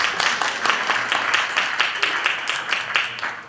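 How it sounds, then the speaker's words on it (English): An audience at an engineering symposium claps steadily for a few seconds, individual hand claps distinct and rhythmic, fairly close and without talk over it. "Give a round of applause,"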